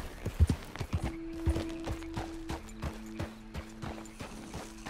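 A horse in Red Dead Redemption 2 clip-clops along with steady hoofbeats, then gives a drawn-out neigh that holds under the trotting, close and moderately loud.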